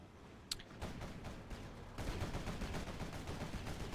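Rapid automatic bursts from a quad cannon in the real-time strategy game Rise of the Reds, a sharp opening shot and then a steady, dense stream of repeated firing that grows louder and continues to the end.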